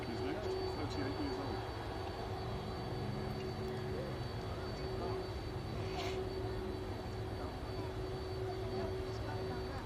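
A Star Air cargo aircraft, an airframe originally delivered in 1985, arrives at East Midlands Airport, its engines a steady distant roar with a faint whine throughout, while people talk in the background.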